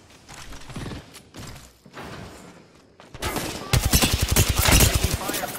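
Rapid automatic gunfire bursts in Apex Legends, loud and close, starting faintly then intensifying into a dense sustained volley during a firefight.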